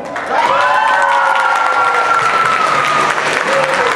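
School talent show audience clapping and cheering loudly to cast a vote, a dense continuous roar of applause with shouts and whoops throughout, steady and close.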